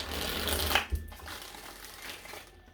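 Tarot cards riffled and shuffled by hand, a soft crisp rustle with a couple of sharper snaps near the start, close and fairly quiet.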